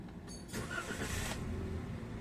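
A Toyota Avanza engine, recently repaired for a leaking valve cover gasket, cranks briefly and catches, then settles into a steady, close idle rumble without any talking.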